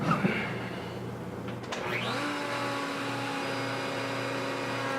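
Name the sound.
router rounding over wood cutting board edges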